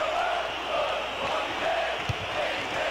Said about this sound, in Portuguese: A torcida vem junto com o time.